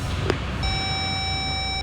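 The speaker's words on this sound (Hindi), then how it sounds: "सर फोन काट दिया उसने।" A phone call being cut off, with a short click followed by a steady electronic tone that holds at an even pitch for over a second over low background rumble.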